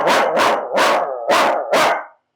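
A man imitates a dog's barking to scare a dog away, giving five loud, close, evenly spaced woof-like barks before falling silent.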